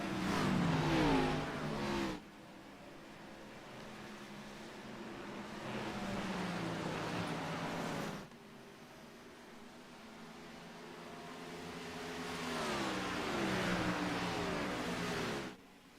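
Sim race cars at Watkins Glen in a Cup Series style event roar through the gears, a loud engine drone rising in pitch in three surges, each cut off sharply before the next pass builds.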